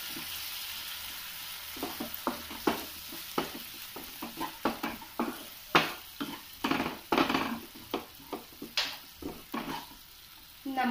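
A spoon scrapes and stirs a frying pan of tomato and chilli sauce for cauliflower Manchurian, a rapid series of rhythmic scraping strokes over a soft, steady sizzle, close and alone.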